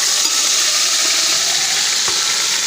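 Chicken masala hits hot ghee with cloves and cardamom, giving a loud, continuous sizzle and hiss that stays even throughout, with an occasional faint pop and no voices.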